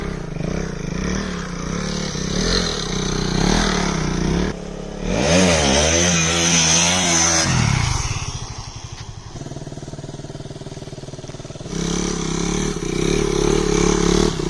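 A modified KTM Duke 200 stunt motorcycle runs close by, its engine buzzing and revving hard in loud bursts with a rattling, clattering edge and brief dips between throttle blips, with no voices.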